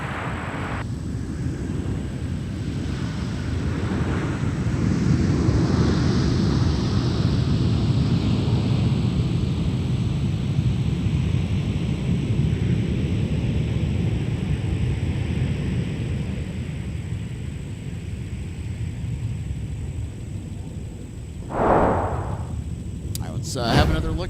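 An airliner arriving from Denver rolls in at MSP airport, heard as a broad, sustained roar of jet noise that swells and slowly fades, with a steady high whine, a nearby voice, and radio chatter.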